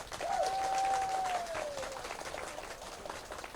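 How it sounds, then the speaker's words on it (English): A crowd gives the president a round of applause at a community visit, a moderately distant wash of clapping with a brief tonal whistle or squeal early on, fairly steady throughout. "I want you to give the president a big round of applause"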